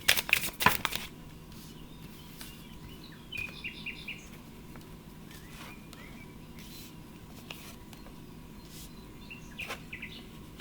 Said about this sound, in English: I'm really enjoying the birds so much.